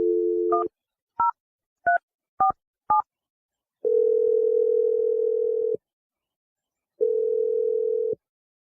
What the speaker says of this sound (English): I'm going to dial Wendy's phone number